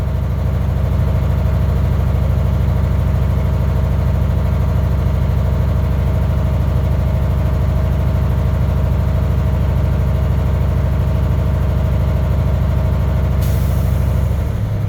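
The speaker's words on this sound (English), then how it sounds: "the noise you just heard is my governor cut off." Truck with air brakes idling loudly and close at a steady low rumble, as the air brake governor cuts off at 120 to 140 psi with a sudden hiss of released air near the end.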